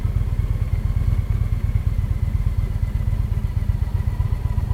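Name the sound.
motorcycle engine while riding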